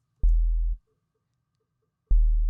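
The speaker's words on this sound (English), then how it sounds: "oscillator 1 in our synth set to a sine wave" Two deep synthesized sine-wave sub-bass notes, each a smooth low hum with a soft click at the onset, separated by silence.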